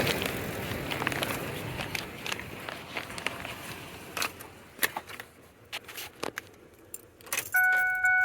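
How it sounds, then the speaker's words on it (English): Keys jangle in the ignition as a 2004-2008 Ford F150 pickup is switched off, a close metallic rattle with scattered clicks and a soft electronic chime near the end. "I am going to turn the vehicle off now"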